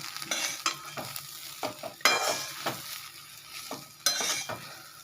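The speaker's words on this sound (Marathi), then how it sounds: "आपल्याला हे असं दोन मिनिटाला हलवत राहायचं मैत्रिणीनं" Leftover chapati pieces are stirred in a hot pan: a spatula scrapes and tosses them in irregular strokes, with a few sharper clanks against the pan over a light sizzle. The sound is close, and no one speaks.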